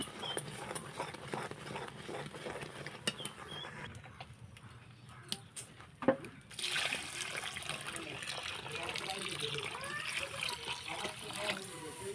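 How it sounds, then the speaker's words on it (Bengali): Boiled lentils being mashed and whisked in a pot, wet sloshing and rhythmic clicking of a whisk or masher, quieter at first, then a thump and a fuller, busier churning that carries on close by. "আমার ডালটা সিদ্ধ হয়ে গেছে এবার আমি এটা সুন্দর করে ঘুটে নেব"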